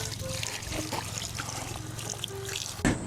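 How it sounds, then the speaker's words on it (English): Tap water running into a sink while hands are washed after emptying a worm farm, a steady close trickle and splash under a person speaking, with a brief louder splash at the end. "Let me go wash my hands."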